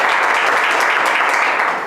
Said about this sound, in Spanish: Un aplauso para Miguel Ángel Real